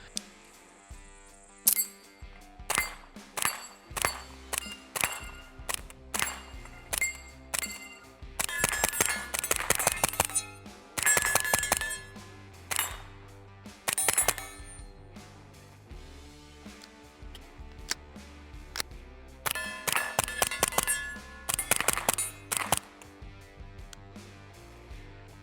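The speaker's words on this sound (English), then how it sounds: "Let's get into shooting it a little bit here." A Beretta PMXS fires close-range shots, some single and some in quick rapid strings, as a series of sharp, clipped cracks spread across about twenty-five seconds, with no talk.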